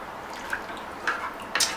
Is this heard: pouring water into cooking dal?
yes